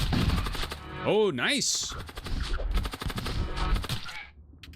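A rapid burst of weapon fire in the space combat game Void War, with sharp repeated shots and a rising and falling whine. A person speaks briefly over the gunfire.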